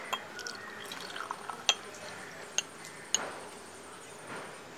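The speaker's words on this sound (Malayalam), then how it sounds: "ഞാൻ മഞ്ഞവെള്ളം ഒഴിക്കാൻ പോവുകയാണ്." Yellow-coloured water is poured into a glass, a soft liquid trickle broken by a few sharp clinks of glass, fairly quiet and close with no talking.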